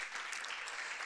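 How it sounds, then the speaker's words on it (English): A university audience claps hands at a learning programmes ceremony, a brief, steady burst of applause from many people at moderate distance. "May we please clap hands for all the categories that are here"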